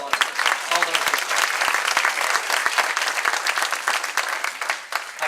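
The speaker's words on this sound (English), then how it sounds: "So let's give a round of applause to all those people." An audience at a church 85th-anniversary history play applauds the church's musicians and cast with dense, sustained clapping from a roomful of people that stays lively throughout, with some crowd murmur mixed in.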